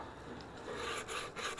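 Sandpaper rasps against the bark of a wooden walking stick in short, close, scratchy strokes that grow denser toward the end, with no talking.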